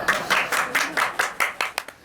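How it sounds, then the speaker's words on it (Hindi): Steady rhythmic clapping from a small group, about a dozen even claps over two seconds, fairly close, slowing and thinning toward the end, with no voices over it. "तालियां"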